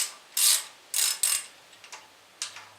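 A 383 stroker engine being fitted with Vortec heads is turned over by hand, producing several short, close ratcheting clicks in separate bursts with brief pauses between them.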